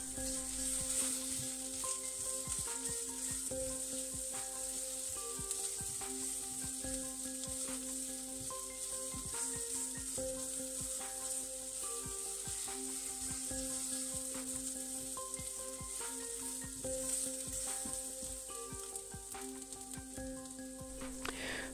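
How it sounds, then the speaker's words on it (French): Onions frying gently in a pan for a courgette and cream tagliatelle dish, giving a steady, close, continuous sizzle with soft crackles and occasional stirring, alone with no talk. "Pendant que les oignons rissolent gentiment"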